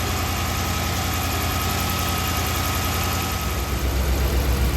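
A car engine idles steadily during a MAP sensor test, an even, continuous rumble with a low hum that deepens slightly near the end.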